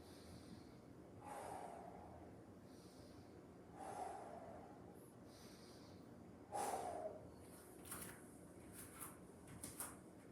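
Slow, deep breaths during a yoga session, each inhale and exhale a soft airy swell, with three or four distinct breath cycles spaced a few seconds apart, close and quiet against a faint room hush.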